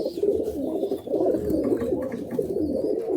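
Male Malwai and Madrasi pigeons in a loft in Budge Budge, South 24 Parganas, cooing continuously in overlapping, throaty rolling calls, close and fairly loud with no talk.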